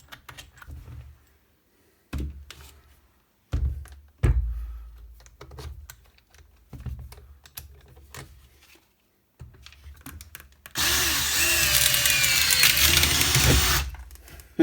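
An Enco SDS rotary hammer drill boring a 16 mm wood bit into wood, preceded by scattered knocks and clatter, then a loud sustained hammering roar over the last few seconds.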